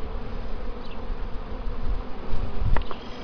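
A swarm of honeybees hums around a hive while beekeeping, a thick steady buzz with a closer insect flaring louder near the end, no voices.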